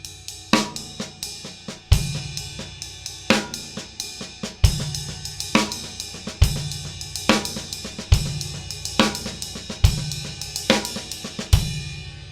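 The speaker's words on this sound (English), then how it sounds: "And if we play it on the bow of the ride cymbal," A drum-kit double paradiddle groove played with sticks on the bow of a ride cymbal, a steady washy ride pattern over a repeating kick and snare, close and loud with no voices.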